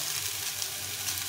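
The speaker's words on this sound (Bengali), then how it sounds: "দিয়ে সবজিটা একটু ভেজে নেব" Salted vegetables fry in a pan while fish is being cooked, giving a steady, close sizzle and hiss throughout, with no talking.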